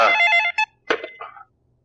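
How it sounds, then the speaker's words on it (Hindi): A telephone rings in a Bollywood film scene, a bright electronic ring burst followed by a shorter second chirp, loud and close, then trailing off into quiet with no talking. "ओह, ये बेवत किसका फोन आ गया?"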